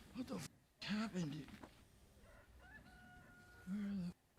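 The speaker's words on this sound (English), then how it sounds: "Rooster." A rooster crows once, fairly faint, mixed in with other sounds and voice-like noise.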